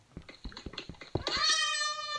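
A cat in the video game Minecraft meows: a run of short quick chirps followed by one longer drawn-out meow, clear and close with no speech.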